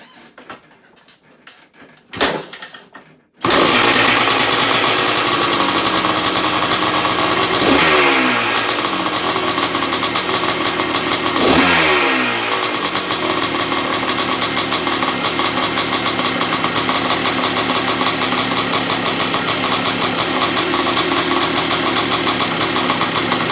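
After a few clicks and kick attempts, a 1979 Yamaha two-stroke dirt bike engine roars to life and runs loudly, with a couple of throttle blips over a raspy idle.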